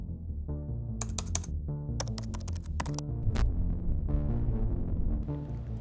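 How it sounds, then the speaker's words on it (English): Fingers tap a computer keyboard in quick clustered bursts of crisp keystrokes with short pauses between them, heard close over a low steady hum. "I typed the words that kept me awake"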